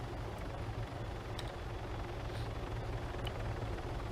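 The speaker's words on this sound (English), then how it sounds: "Welcome to the heli." Steady low rotor drone of a video-game helicopter, continuous and fairly loud with a broad rumbling hum throughout and no talk over it.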